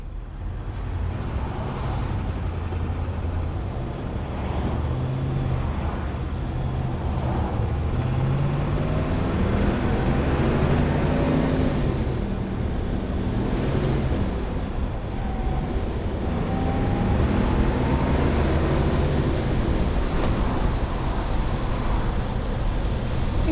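A 1960 Chevrolet Corvette cruises down the road on original bias-ply tires, its engine a steady low rumble with shifting pitch as it accelerates, heard from inside the car alongside constant road noise.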